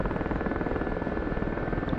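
A powerful Gazelle helicopter flies, its rotor and engine making a steady, loud, dense chop that continues throughout with no voices.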